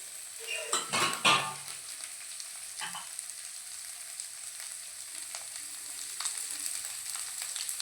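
Onions and tomatoes sizzle and fry in a pan while a utensil stirs them, giving a couple of loud scraping bursts early and then a steady soft crackle.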